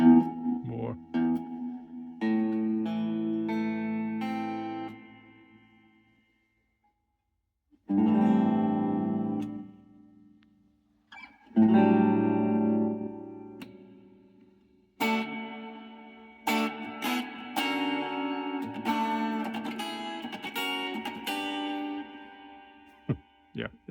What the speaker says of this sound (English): Then you've got reverbs, little, a lot, hall reverb, little bit more.